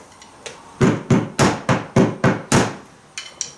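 Drums played with carpet laid over the heads: about eight dull, muffled thuds in a steady beat, close and damped with short decays, plus a few softer taps at the start and end.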